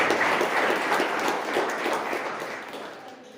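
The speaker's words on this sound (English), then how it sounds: "welcome them with a round of applause in Lower Bari here. Can we put our hands together?" A seminar audience in Lower Bari gives a round of applause to welcome guests: full, dense clapping from many hands that gradually tapers off over a few seconds.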